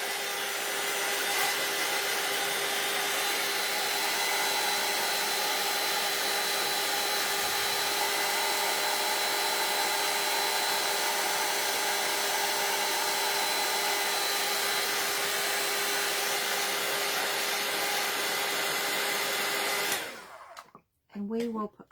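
A handheld dryer blows steadily on a freshly glued craft piece, a close, constant whirring hiss that runs unbroken for about twenty seconds before switching off.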